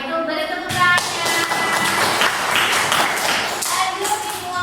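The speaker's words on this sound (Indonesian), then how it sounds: "beri tepuk tangannya" Students in a classroom clap together, a burst of brisk, moderately loud clapping following a voice, with scattered taps and shuffling as it goes on.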